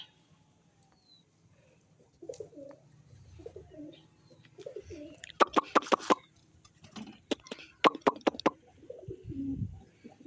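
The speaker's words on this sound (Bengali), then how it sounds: "এই কালো কবুতরটাকে কিন্তু আমার সবথেকে প্রিয় কবুতর" Pigeons in a loft coo in several short throaty phrases, with sharper chirps and wing or scuffling noises mixed in at close range, against a quiet background.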